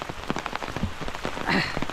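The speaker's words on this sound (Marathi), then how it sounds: "पहिलं पाऊस बघितलाच असाल" The season's first monsoon rain in the Konkan falls steadily, a dense close patter of drops on surfaces with no voices.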